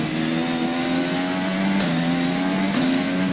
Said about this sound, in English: Touching a little bit of brake. Then going into the throttle once again.